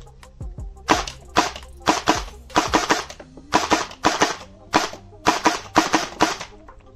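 A QWK Challenger MK3 Nerf AEG blaster, a spring-powered blaster with electronics, fires a rapid run of sharp mechanical clacks and thwacks, single shots and short bursts at close range with no talking.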